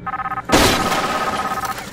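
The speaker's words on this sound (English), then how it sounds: "I'm just gonna break glass" Glass smashes in a horror video game: a loud, sudden crash with a spray of bright shattering debris, heard right after a short stretch of electronic phone ringing, which then resumes faintly beneath the fading noise.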